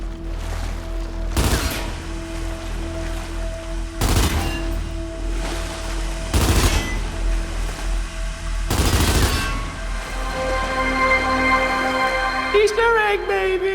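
Bursts of heavy gunfire from a secret weapon in a video game, unlocked by shooting four sewer valves, ring out in four loud separated volleys over a steady droning backdrop, with a rising tonal sweep at the end.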